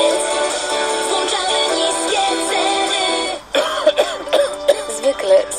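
Repeated coughing in a Polish cough syrup advert, a run of harsh throaty coughs close to the listener, with a short pause before a second burst of louder coughs.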